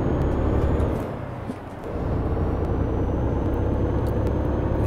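Steady, loud low rumble of a Ford F-MAX truck engine from inside the cab, continuous and droning with a brief dip in the middle.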